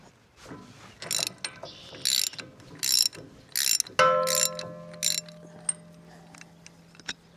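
Socket wrench ratcheting on a hydraulic O-ring fitting of a log splitter, a run of about seven bursts of rapid clicking, close and fairly loud, with a metallic clink and faint ringing between strokes.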